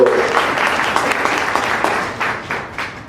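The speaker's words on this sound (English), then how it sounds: "Can we give you guys a round of applause?" Applause from a roundtable audience, a dense burst of clapping from a room full of people that starts strong and slowly thins out, fairly loud with no talking over it.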